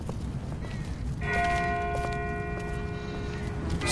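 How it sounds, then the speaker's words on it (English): A single distant bell in The Walking Dead video game rings once with a sustained, fading metallic tone over a steady outdoor background hum, with no talking. "That's not the same bell as before. This one's further off."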